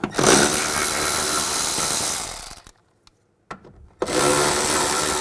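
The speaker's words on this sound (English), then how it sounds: "We want to take these retainers out." A 10mm socket on a ratchet works retainers loose on a 2003-2009 Mercedes-Benz E320, with close, rapid clicking and rattling that cuts off into a brief near-silence with one faint tap before the clicking resumes.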